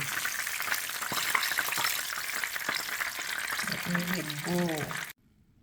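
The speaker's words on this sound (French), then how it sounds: "Je vais passer là à la friture de ma banane." Fish sizzles and crackles in hot oil, a steady frying hiss with scattered pops, joined near the end by a brief voice before it cuts to silence.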